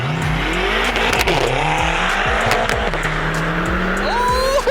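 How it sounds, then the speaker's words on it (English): A 130 horsepower Caterham on skinny little tyres skids and squeals under loud, continuous engine noise, with tyre squeal rising sharply near the end, racing against a 700 horsepower BMW M5. "700 horsepower M5 against this 130 horsepower Caterham with my skinny little tyres"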